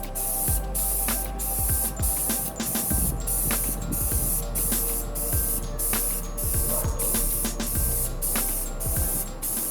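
Spray paint hissing from an aerosol can onto a board for a magnetic pin board, in steady bursts with short pauses as the nozzle is released at each pass, close and fairly loud, with no talking.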